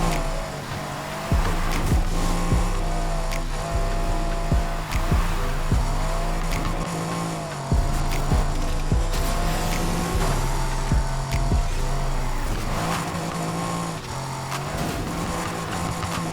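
A race car in Need for Speed Heat roars through a lap, its engine droning loud and steady with pitch shifts between gear changes and occasional tire squeals, with no voices over it.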